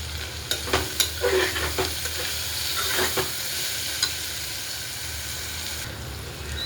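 Cluster beans with turmeric roasting in a pan, a steady sizzle and hiss throughout, with several clinks and scrapes of a spoon stirring near the start, close up and with no talking.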